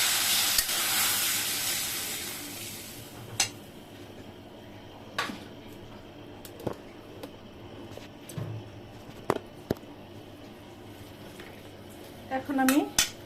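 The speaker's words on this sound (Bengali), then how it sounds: "এখন আমি দিয়ে দেবো একটু পানি।" Water added to frying onions and spices with turmeric sizzles loudly in a pan at first, then settles to a faint hiss broken by stirring knocks and clinks.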